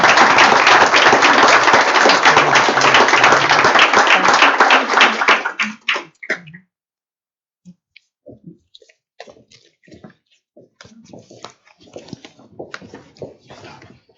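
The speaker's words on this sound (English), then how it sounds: "can I ask you to give a round of applause to our fantastic panelists?" Audience applause for conference panelists at a climate action and sustainable development event, loud and full for about five seconds, then cutting off into quiet with scattered light sounds.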